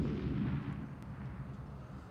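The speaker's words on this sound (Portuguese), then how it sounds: "2 minutos depois, uma nova explosão." A bomb set off to blow open a cash machine at a market on the São Paulo coast, heard as a distant, muffled low boom that fades into a rumbling tail, faint and alone without voices.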